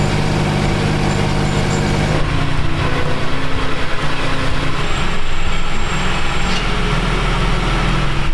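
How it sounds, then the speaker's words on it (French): A tractor pulls a harrow across a wheat field, a continuous loud, close engine drone with rattling, clanking machinery noise that shifts in tone partway through, with no talk. "on est en train de passer l'herse"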